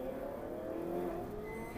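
A race car's engine revs on the starting grid at Mugello before a rolling start in the 2014 Trofeo Pirelli, heard from on board: a steady, close droning roar with tones that swell and settle as the throttle is blipped.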